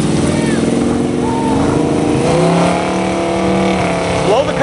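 A 1980 Malibu with a 502 big block V8 revs loud and close, its pitch climbing and falling across several throttle blips amid a crowded car-show setting, with voices chattering underneath.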